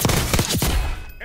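Gunfire in a Call of Duty video game, a short dense burst of loud, close shots and thuds packed into about a second, filling the clip before cutting off.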